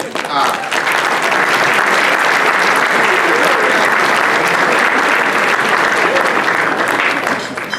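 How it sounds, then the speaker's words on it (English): A room full of people at a public meeting bursts into strong, continuous applause that swells quickly and stays dense before tapering off at the end. "you're clapping because you think I'm done"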